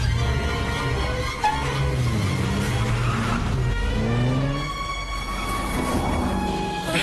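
An auto rickshaw swings around to chase a car, its small engine droning loud and close with a shifting pitch as it turns, and no voices.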